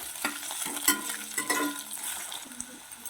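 Chopped capsicum stir-fried with grated garlic and ginger in a pan, close up, with repeated scraping stirs over a bright crackling sizzle and light clinks of utensil on pan.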